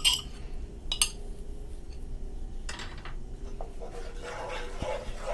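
A spoon stirs yogurt in a cooking pot while chicken pulao masala is prepared: light metallic clinks and scrapes come at irregular intervals over a soft, steady background.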